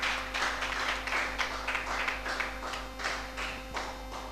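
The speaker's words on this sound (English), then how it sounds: "A round of applause for him again." Modest applause from a conference audience at a book festival breakout session for a leadership coach and speaker, a moderate steady patter of clapping over a low hum in the room, no talk.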